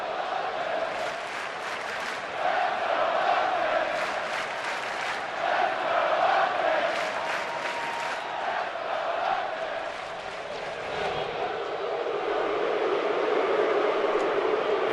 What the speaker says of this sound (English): And listen to the crowd tonight.